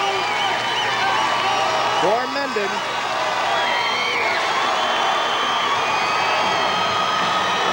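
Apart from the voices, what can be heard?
football game crowd cheering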